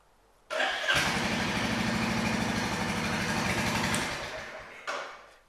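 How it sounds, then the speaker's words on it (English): A Royal Enfield Classic 350 motorcycle with a fault cranks briefly, then fires up into a steady thumping idle close by. The engine is cut off near the end, followed by a short blip. "Let's try and start the bike again"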